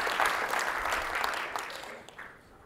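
Applause from a keynote audience at a tech product launch, a dense patter of clapping that holds steady before thinning and fading away over a couple of seconds.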